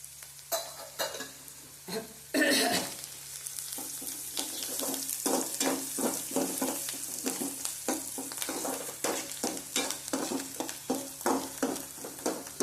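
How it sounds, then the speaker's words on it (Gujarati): Onions sautéing in oil for a kantola (spiny gourd) curry crackle and sizzle up close, broken by a rhythmic run of spatula scrapes and stirring strokes, with no talking. "ડુંગળીને આપણે સાતળી લેશું અને આપણે થોડીક 2 મિનિટ સાતળી લેશું."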